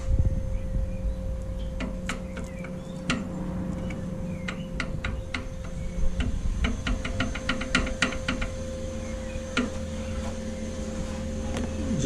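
A three-cylinder engine idles with an irregular ticking tap from the valve gear at cylinder number 2 during a cylinder head overhaul, sharp clicks scattered over a steady low hum and a faint whine.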